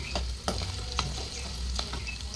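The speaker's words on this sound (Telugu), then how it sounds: "పన్నీర్ ముక్కలని వేసుకొని కొద్దిగా గోల్డెన్ బ్రౌన్ కలర్ వచ్చేదాకా వేగనివ్వాలి." Paneer cubes frying in hot oil in a pan until golden brown, a continuous close sizzle broken by several sharp stirring scrapes, with no voices.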